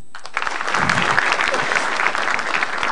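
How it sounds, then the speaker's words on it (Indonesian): A seated crowd at an Indonesian stand-up comedy show breaks into applause, a dense wash of clapping that starts abruptly and holds steady and fairly loud. Faint voices come through underneath. "Tepuk tangan lagi deh."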